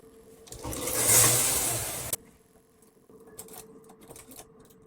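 An SK280 knitting machine head is pushed across the bed in one loud, rising mechanical whir lasting about two seconds that stops sharply, followed by quiet clicks and rattles.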